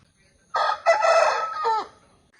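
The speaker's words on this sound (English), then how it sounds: "it's a hen." A hen crows once, a loud drawn-out call with a rising break midway, close by and heard on its own.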